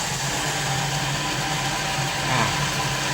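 A water pump motor driven by a VFD inverter and powered by mains AC together with solar panels gives off a steady, loud mechanical hum, swelling slightly near the end.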